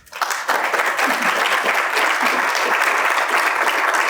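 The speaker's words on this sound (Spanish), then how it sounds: "con la presencia del doctor Raúl Mayo, para quien pido un aplauso." Loud, sustained applause from an academic audience in a lecture hall welcoming a guest speaker, a dense wash of clapping that swells quickly and holds steady.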